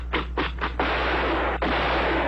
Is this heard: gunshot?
yes